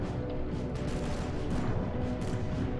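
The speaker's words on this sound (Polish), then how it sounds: "Gdzieś słyszę jakieś strzały, jakieś odgłosy walki" Dense, steady rumble of a distant battle in the video game Sniper Elite: Berlin 1945, with muffled gunshots and bursts of fire blending into a continuous low roar.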